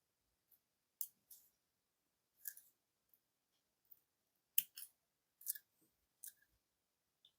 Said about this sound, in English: now I can cut the thread off